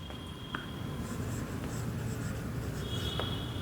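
Chalk or pen scratches steadily across a board as the laws of reflection are written out in a physics lesson, with a few sharper taps and squeaks between strokes and no voice.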